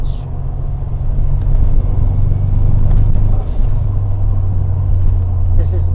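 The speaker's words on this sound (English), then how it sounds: "once it gets going and that turbo comes on, It's got a punch to it." Fiat Uno Turbo engine pulling under acceleration from inside the car, a steady loud low drone with a small dip midway, with people talking over it.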